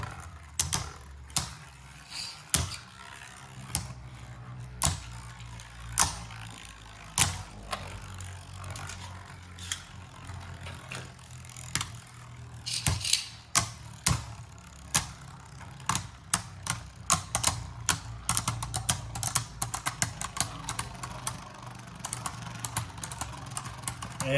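Beyblade Burst tops, including Soul Balkesh, are ripcord-launched into a stadium and clash while spinning, giving a long run of sharp plastic clicks and rattling knocks that grow denser and busier toward the end.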